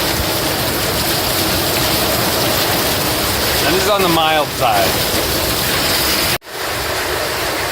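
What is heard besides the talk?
heavy rainstorm in rainy season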